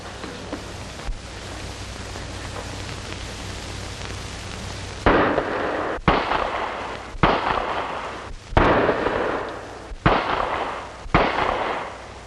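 Pistol shots from shooting practice in a 1940 crime drama film: a faint shot followed by five loud, sharp reports spaced about a second apart, each with a short echoing decay, no voices.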